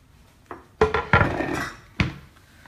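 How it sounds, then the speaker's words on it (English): A few clunks and clatters close by as a chopping board is picked up and set down on a hard kitchen counter, with a short scraping knock. "I'm just going to grab a chopping board."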